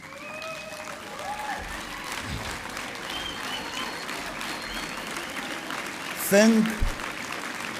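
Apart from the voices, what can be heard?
audience applause for party activists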